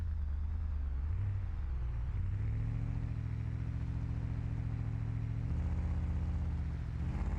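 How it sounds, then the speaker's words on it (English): A low, loud repo truck engine in the video game BeamNG.drive rumbles steadily throughout, its pitch rising briefly and then settling into a heavy, even drone. "Truck is so much louder than the other one."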